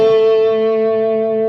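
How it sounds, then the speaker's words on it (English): A Peavey Vypyr X2 amp on its distortion setting carries a single sustained electric guitar chord, loud and steady with a gradual fade, nothing else underneath. "Push the button again, I get a little distortion."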